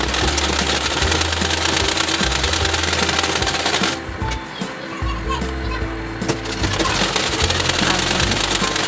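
A sewing machine stitches a blouse in a fast, loud, continuous mechanical rattle, close up, with a short lull midway, while a person talks over it.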